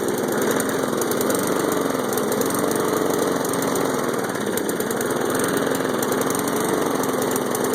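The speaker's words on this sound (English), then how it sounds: "you can't even hear my voice over the awesomeness of my lawnmower" A new lawn mower engine running nearby, a loud, steady rattling drone with a slightly wavering pitch that continues without interruption.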